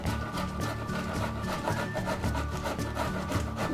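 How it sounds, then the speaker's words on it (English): Zucchini is grated on the large holes of a box grater, making steady, rhythmic rasping strokes close by with no talking. "take the grater and using the big piece of the grater and grate those up"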